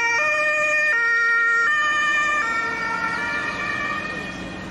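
A toy ambulance plays its electronic siren, a loud stepped two-tone wail that shifts pitch several times before fading slightly toward the end, heard alone without talk.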